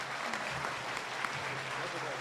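An audience applauds at a hospitality school event for a speaker, a short burst of steady clapping heard under and alongside talking.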